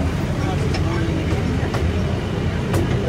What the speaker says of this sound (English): We're on the GATORLAND train tour.